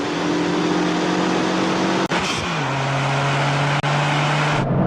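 Sports hatchback engine, a Honda Civic Type R or Toyota GR Corolla, droning steadily under load, then cutting briefly for a gear change and resuming at a lower pitch, with another quick break and a short shift near the end.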